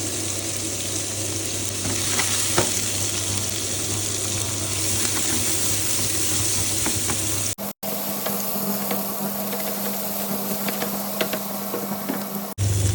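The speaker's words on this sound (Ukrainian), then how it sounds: "Кидаємо нашу цибульку. Я її так трошки придавлюю руками." Chopped onion sizzles in a frying pan, a steady, close crackle with scattered pops and faint clinks, followed by a brief break before the sizzling resumes.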